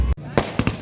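Firecrackers at a village wedding procession give several sharp, loud bangs in quick succession, close by, with crowd noise in the background.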